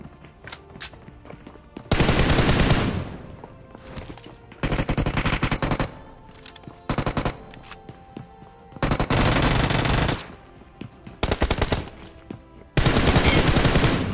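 Automatic gunfire in the PUBG Mobile battle game, several loud, rapid bursts of a second or so each, separated by quiet gaps with faint clicks and footsteps.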